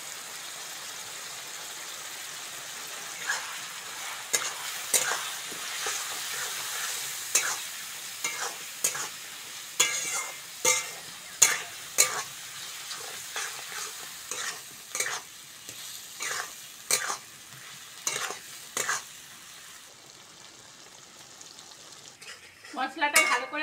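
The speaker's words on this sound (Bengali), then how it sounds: "মশলাটা ভালো করে কষে নিয়েছি" A spice paste of garlic, ginger, green chilli, turmeric, chilli powder and salt with a little water sautés in a pan, soft frying hiss under repeated rhythmic spatula scrapes and clinks against the metal.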